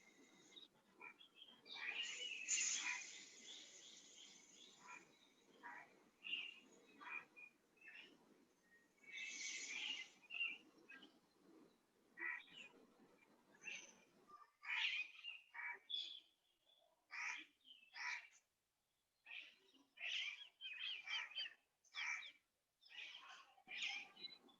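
Birds chirp and tweet in a garden in scattered, overlapping bursts against a quiet background, some calls close and bright, others softer.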